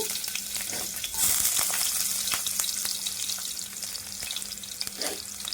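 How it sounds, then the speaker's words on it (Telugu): Chopped garlic frying in a little oil in a pan, a constant close sizzle with a brief louder burst after the first second and light stirring clicks throughout. "అందులో కొద్దిగా ఆయిల్ వేసుకొని మనం కట్ చేసి పెట్టుకున్న వెల్లుల్లి అండి"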